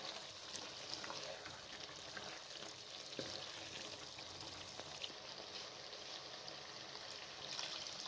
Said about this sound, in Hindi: अब 5 मिनट मज़ीद गोश्त को अच्छे तरीके से भून लें।